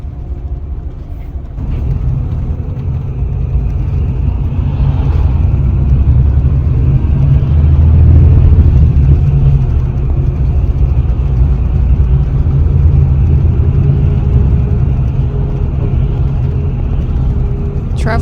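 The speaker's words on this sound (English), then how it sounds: "This car meetup at the rest stop made me feel nostalgic." Several Mini cars idle and rev together at a rest-stop car meetup, a steady loud engine drone with a slight swell midway, people talking faintly beneath.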